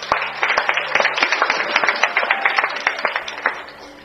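A congregation at a sermon claps, a steady rhythmic round of many hands that stays loud and close throughout and fades slightly at the end.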